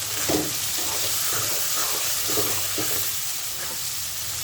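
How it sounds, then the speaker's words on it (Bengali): Baim eel fish frying in hot oil, a steady loud sizzle with bursts of spatter and a few stirring scrapes near the pan, no voices. "এভাবে তেলের উপর মাছটা দিলে"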